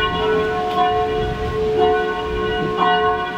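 A church bell strikes about once a second, three times, and its deep resonant tones hum on between the strokes, during the Puy du Fou Cinéscénie night show in Vendée, France.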